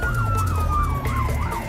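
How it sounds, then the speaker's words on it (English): An emergency vehicle siren wails in a fast rising and falling cycle, loud and close, over a low engine rumble. "We might have to go lights and sirens"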